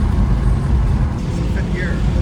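A stage 2 tuned BMW 440i Gran Coupe drones steadily while cruising in fifth gear, a loud, constant low engine and road rumble heard from inside the cabin, with a voice talking over it.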